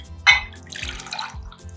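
Khakshir seeds and water poured from one bowl into a second bowl in a kitchen, a brief splash and trickle followed by soft dripping and sloshing.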